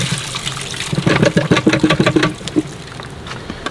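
Brine solution pouring and splashing into a lobster steamer pot fitted with a steamer plate, a choppy, gurgling liquid rush that swells for about a second and a half, then settles into a low, quieter trickle.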